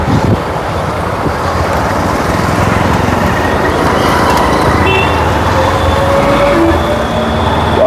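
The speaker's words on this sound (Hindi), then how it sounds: "आप आवाज़ सुन सक रहे होंगे हमारी बाइक की और आसपास की आपकी जो साउंड आ रही होगी।" Steady, loud road noise heard from a moving motorbike: continuous engine rumble and wind with surrounding traffic passing, unbroken throughout.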